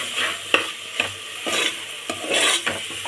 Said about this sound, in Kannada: ಇದು ಸ್ವಲ್ಪ ಎಣ್ಣೆಯಲ್ಲಿ ಹೆಸರುಬೇಳೆ ಒಂದು ಸ್ವಲ್ಪ ಫ್ರೈ ಆಗಲಿ